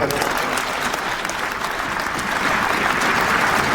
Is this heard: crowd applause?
yes